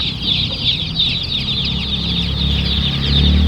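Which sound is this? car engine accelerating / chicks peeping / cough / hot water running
chicks peeping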